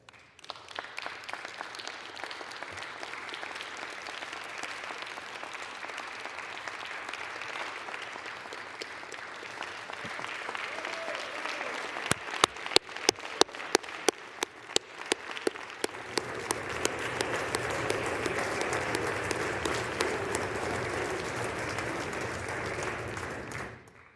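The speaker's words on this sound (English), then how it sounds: "they deserve all of our applause today" Applause in the U.S. House chamber during a floor debate: sustained clapping from many lawmakers, steady and mid-distance, with a stretch of sharper individual claps near the middle before it swells again.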